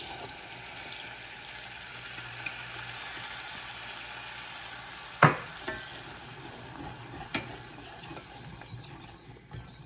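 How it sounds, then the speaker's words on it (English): Flour being whisked into a roux in a pan: a soft, steady scraping and stirring with faint sizzling, broken by a few sharper metallic clinks of the whisk against the pan. "now I'm going to whisk in the 3 tablespoons of flour"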